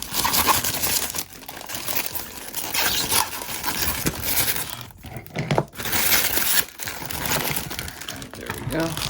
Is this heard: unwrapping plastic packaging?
yes